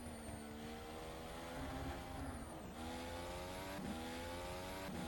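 An open-wheel race car with heavy downforce screams steadily through its gears in rFactor 2, its harmonic engine whine rising and dipping with two brief drops as it shifts, loud and close with no talk.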